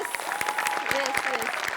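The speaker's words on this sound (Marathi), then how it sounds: "त्याच्याकरता एकदा आपण टाळ्या वाजवूया" Audience applause at a Marathi comedy stage show, a steady crowd of clapping hands sustained throughout the short stretch, fairly loud and continuous.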